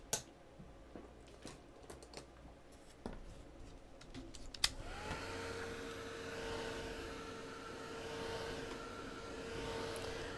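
A nail dryer blows over freshly painted candy-cane-striped nail polish, its steady whooshing hum starting abruptly after a few small clicks and handling noises and running continuously at a moderate level.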